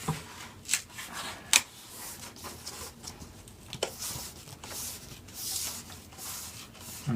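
Foam board for a model aircraft build rubs and crinkles as its back edge is folded up by hand, giving soft, close scraping and a few sharp creaks.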